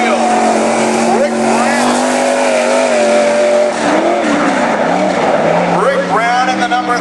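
Race car number 36 runs on an asphalt track during national qualifying at Cottage Grove, its engine loud and wavering with some tire squeal, under continuous announcer commentary.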